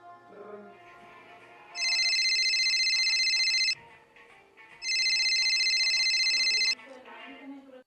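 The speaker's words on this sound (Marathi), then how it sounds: "बाबांचा फोन." A mobile phone ringtone plays in two loud, steady electronic bursts of about two seconds each, separated by a short pause, with faint room noise between them.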